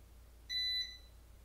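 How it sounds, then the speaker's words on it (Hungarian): An Eaton 5E850iUSBDIN 850VA UPS beeps once after its mains power is removed, a short, clean, high electronic tone of under half a second against a quiet hum. "Most, hogy eltávolítottam, el is kezdett csipogni."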